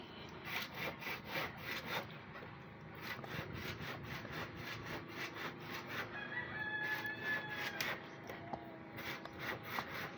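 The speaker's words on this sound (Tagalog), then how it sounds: "Naglalagara eh." Rhythmic back-and-forth rasping of a dull handsaw cutting wood from a rotten floor, steady strokes throughout, with a rooster crowing faintly in the background partway through.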